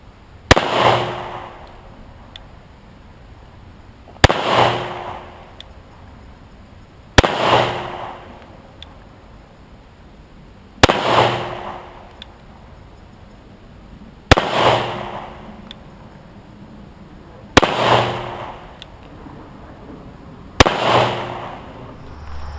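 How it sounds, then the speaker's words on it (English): Colt Lightweight Commander Wiley Clapp Edition .45 pistol firing Winchester 230 grain T-Series ammunition at 15 yards, seven sharp single shots spaced a few seconds apart, each loud crack trailing off in a brief outdoor echo. "Colt Lightweight Commander Wiley Clapp Edition. Winchester 230 grain T-Series ammunition, 15 yards."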